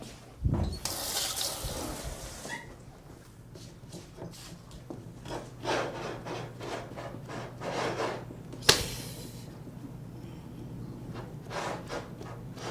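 Water runs steadily from a tap, a soft continuous rush with splashing and a few knocks and clatters of handling nearby, fairly faint throughout.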